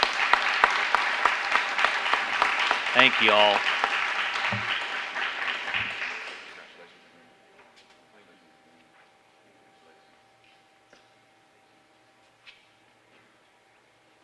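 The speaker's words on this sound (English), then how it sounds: "Round of applause for our employers." A crowd at a college signing day event gives a strong round of applause that lasts about six seconds, then dies away into a quiet room with a few faint sounds, and a voice briefly speaks over the clapping.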